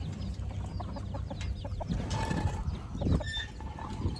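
Chickens clucking as they are let out of a village poultry coop, several birds close by making a busy, overlapping stream of clucks against a constant low background.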